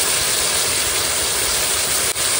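Cumin powder and other spices, with ginger, green chilli, salt and turmeric, sizzle in hot oil as a steady, loud, dense hiss that runs unbroken with one brief dip near the end.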